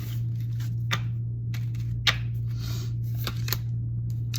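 A deck of stiff cards is shuffled with uneven riffling bursts and sharp flicks over a steady low electrical hum, with no talk.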